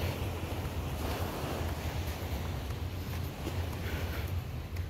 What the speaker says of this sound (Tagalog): At saka ang agos ng tubig guys.